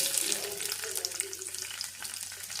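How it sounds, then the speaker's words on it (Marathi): Garlic dropped into hot oil with cumin seeds, giving a close, steady sizzle and crackle with small spattering pops throughout, fairly quiet, with no talking. "जिरं जरा तापलेलाच तेलात टाकायचं नाहीतर ते नंतर फुलत नाही आता हा लसूण टाकते"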